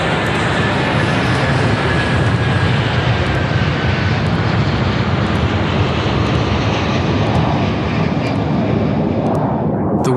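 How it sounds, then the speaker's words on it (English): An Airbus A330 heavy with fuel roars down the runway on takeoff from Toronto, a loud, steady broadband jet-engine rush holding without a break from start to finish. "the Airbus A330, loaded with over 47 tons of fuel, left Toronto for Lisbon"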